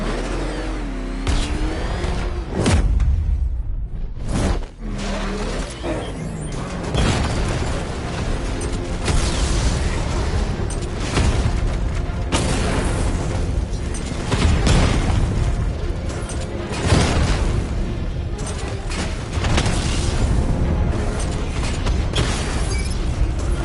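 A tank's 60mm cannon in Batman: Arkham Knight firing on heavily armored units, with loud booming shots and bursting explosions spread across the stretch over continuous mechanical engine rumble.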